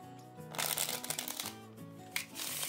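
A deck of playing cards riffle shuffled by a magician, a quick crisp flurry of flicking cards with a second burst near the end, close and fairly loud.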